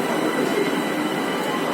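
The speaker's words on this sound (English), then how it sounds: "See how full the train is." Steady rolling rumble of a packed subway train in China, continuous broadband rail noise with wheel and carriage sounds throughout and no talk.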